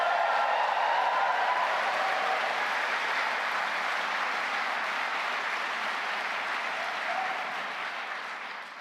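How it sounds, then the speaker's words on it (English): A graduation audience fills an auditorium with loud, sustained applause, a dense wash of many hands clapping together that stays steady for several seconds before easing off slightly at the end. "Do you want to give me your loudest round of applause,"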